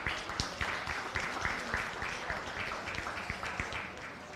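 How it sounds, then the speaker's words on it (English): Faint, steady applause from the crowd at a county fair goat show, with scattered individual claps running throughout at a moderate distance. "Let's give these young individuals a big round of applause"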